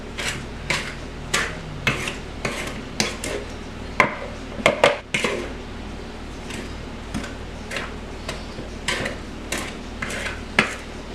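A spoon mixes banana fritter batter in a bowl, giving rhythmic scraping strokes and light clinks against the sides, repeated at a steady pace with a brief flurry midway.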